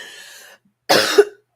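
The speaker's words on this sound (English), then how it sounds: "I do apologize for the cough." A single harsh cough, close and loud, bursting out after a short stretch of a voice and a brief silence, from a workshop host still recovering from losing her voice.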